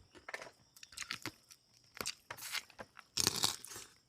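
Someone bites and chews crispy pata, the fried pork knuckle skin, producing a close, irregular series of sharp crunches that come in bursts, with louder bites toward the end.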